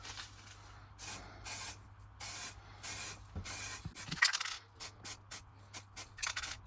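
Short bursts from a spray paint rattle can coat the headstock of a Harley Benton DIY guitar kit, about a dozen separate hissing sprays of uneven length with brief pauses between, close and fairly quiet.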